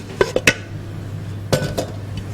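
A few metal clanks and clinks as a kadhai is pulled out and handled in a kitchen, ready for frying pakoras, a short burst of knocks, a pause, then a second cluster of clatter over a steady low hum.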